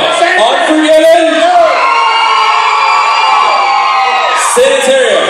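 A loud concert crowd at a show roars and cheers, shouts and whoops rising and falling continuously, with a fresh burst of yelling near the end.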